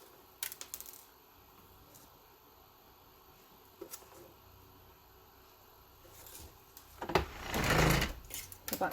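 A sewing machine stitches a Christmas stocking, with scattered light clicks and handling at first, then a short, louder run of stitching near the end.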